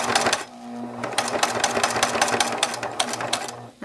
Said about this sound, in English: Let the machine feed it through.